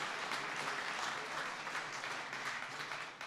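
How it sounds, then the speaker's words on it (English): Crowd at an Honor Flight Northern Colorado gathering giving a sustained round of applause for Second Lady Karen Pence: continuous dense clapping that holds steady, then tapers slightly at the end. "can I just invite you to give a big round of applause to the Second Lady of the United States of America"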